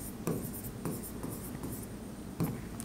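Pen writing on paper, close and dry, with a few quick scratching strokes and short pauses between them, alone without speech.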